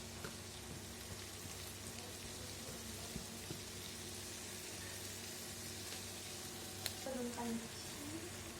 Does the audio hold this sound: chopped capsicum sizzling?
yes